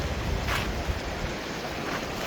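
A creek flowing through a shaded spot beside a river along the Denali Highway, heard as a steady, dense rush of water, fairly loud and continuous with no voices.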